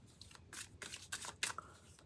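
Tarot cards are shuffled by hand in a few quick, close riffling bursts of papery slapping and rustling, with no talk over them.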